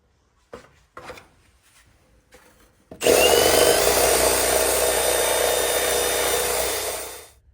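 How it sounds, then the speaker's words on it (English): A wire wheel on a power tool strips paint from the bare metal of a Honda Element body, starting after a few faint knocks and then grinding loudly and steadily for about four seconds before winding down. "with the wire wheel to clean all that paint off."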